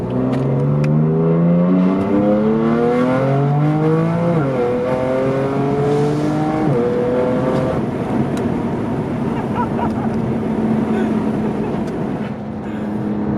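A 2019 BMW M4 CS engine with M Performance exhaust revs through several gears, rising in pitch and dropping with each shift, then settles into a deep, rumbling exhaust burble, loud and close.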